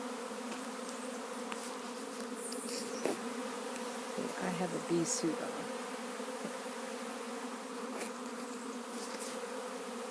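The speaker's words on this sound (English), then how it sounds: "And these bees have swarmed." A honey bee swarm moving into a garage workspace below a house gives a steady, dense buzzing hum throughout, close and continuous, with a few louder passes near the middle and someone speaking briefly over it.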